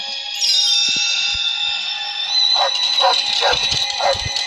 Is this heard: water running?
no